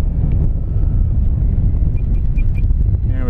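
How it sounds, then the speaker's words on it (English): Wind buffets the microphone outdoors at a radio-control model plane flight, a constant low rumble and roar, steady throughout, with faint tonal whines briefly rising near the end. "It's very windy today."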